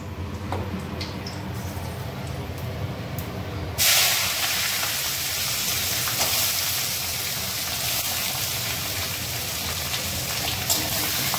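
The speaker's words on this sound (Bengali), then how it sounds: "তো চলো একটু পেঁয়াজটা ভেজে আসি।" Onions hit hot oil with a sudden burst of sizzling that settles into a steady, close crackle and hiss.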